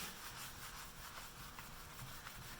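400-grit sandpaper sanding a cured finish, a steady, close, continuous rubbing scratch with a faint back-and-forth rhythm.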